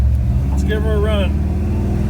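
A car with a Chevy 350 small-block engine and MSD ignition drives off with a steady, loud low engine drone throughout, and a voice rises briefly over it.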